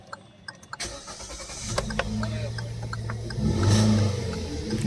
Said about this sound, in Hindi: गाड़ी स्टार्ट हो गई है अपनी।